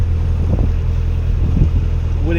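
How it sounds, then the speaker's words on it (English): Wind buffets a microphone aboard a canal boat on a breezy day, a low, constant rumble with a steady engine hum beneath and a few gusty surges. "there was a really strong wind coming through across that bridge hole, and actually it's still quite breezy"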